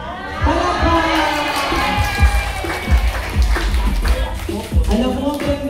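Guests at a 60th birthday party clap and cheer in a lively burst up close, with raised voices, shouts and uneven clapping mixing together as people talk through the noise.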